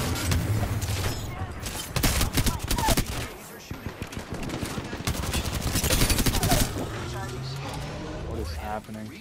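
Rapid automatic gunfire in the video game Apex Legends, dense loud bursts of shots and impacts crowding together, with players talking over the fighting.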